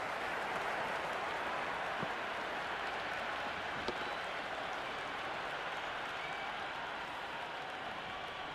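A large cricket stadium crowd in the Cricket 26 video game during an IPL 2025 match between CSK and MI roars, cheers and applauds in a dense, steady wall of sound that carries on at a constant level without a break.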